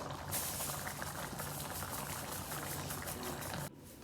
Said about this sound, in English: So we'll see how this goes when it gets to a simmer